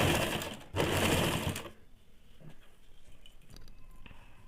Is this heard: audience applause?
no